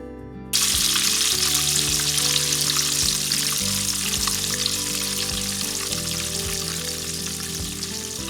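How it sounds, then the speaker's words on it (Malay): A blended spice paste for mee siam goreng taucu hits hot oil with a sudden loud sizzle, then fries steadily and close up with faint crackles and occasional stirring, and no one speaks. "Panaskan sedikit minyak dan tumiskan bahan kisar tadi."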